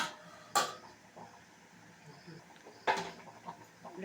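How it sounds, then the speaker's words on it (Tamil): A plate set down over a cooking pot of simmering white chana kurma makes two sharp metallic clinks, a few seconds apart, against quiet kitchen background. "தட்டு போட்டு மூடிடுவோம்."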